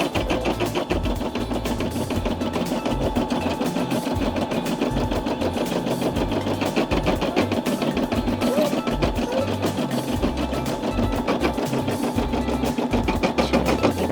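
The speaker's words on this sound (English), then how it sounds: "And then it's doing its background stabilizing stitching." A Brother SE600 embroidery machine stitches background stabilizing stitches with a fast, steady mechanical chatter and a constant pulsing rhythm, running continuously up close at even volume.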